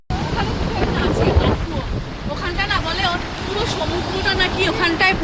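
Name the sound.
wind blowing by the sea at Rameshwaram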